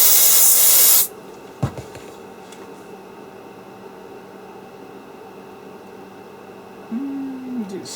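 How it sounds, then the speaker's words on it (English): Freeze spray squirts onto resistors on a circuit board in an HP 3457A multimeter, a loud close hiss lasting about a second and then stopping, followed by quiet room tone with faint clicks. "So let's give it a squirt with the freezer."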